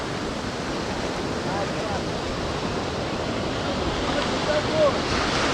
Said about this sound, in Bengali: সর্বক্ষণ সাগরের শো শো আওয়াজ